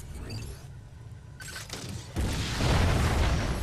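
Missiles fired in the video game Metroid: Other M, a muffled launch followed by a loud booming explosion with a broad rumbling tail, no voices.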